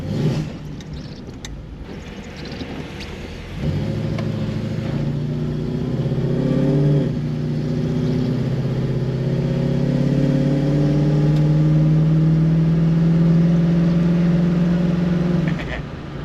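A freshly rebuilt 1973 AMC Hornet drives along with its engine humming steadily. The engine climbs in pitch as it revs up under acceleration and then holds a smooth, sustained drone, close by and alone with no talk.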